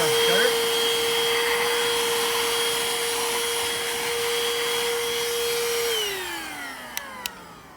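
A MELOHO cordless handheld car vacuum cleaner runs with a steady close whine, then switches off and winds down, followed by two small clicks.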